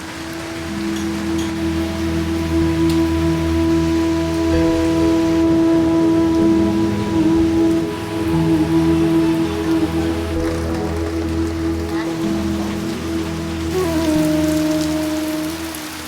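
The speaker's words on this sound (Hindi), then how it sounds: "झमाझम बारिश लगे जा रही है लगातार।" Heavy monsoon rain pours steadily in the Uttarakhand hills, a loud, dense wash with low droning tones running underneath, unbroken for the whole stretch.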